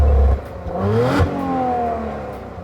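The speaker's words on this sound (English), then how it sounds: "So this is the normal quiet mode." A 2019 Audi RS4 with the optional sports exhaust set to its quiet mode revs briefly, a close, moderately loud engine note rising and then settling into a smooth hum.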